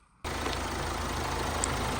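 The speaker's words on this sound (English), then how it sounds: "The vehicle's all back together, and as you can see, the engine is running lovely" Range Rover Evoque engine idling smoothly after a timing chain replacement, starting abruptly after a brief quiet moment and then holding a steady, even low hum with a regular pulsing beat.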